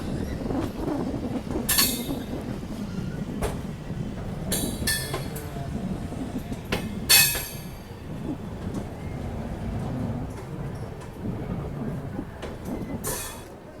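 Ranthambore Express sleeper class train running between Jodhpur and Indore, a steady close rumble of wheels and carriages with occasional sharp clacks and brief metallic squeals.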